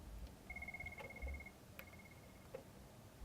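A mobile phone rings during a piano lesson, a few short electronic tone bursts with small clicks in between, faint against a quiet room.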